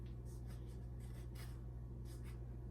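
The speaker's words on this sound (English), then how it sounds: "I'm going to cut my avocado" A knife slicing through a soft, ripe avocado, with several short scraping strokes over a steady low hum, close and fairly quiet.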